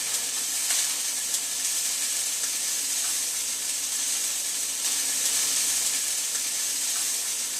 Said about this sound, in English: we're just going to stir it up a little bit. You want to make sure that all the meat turns brown.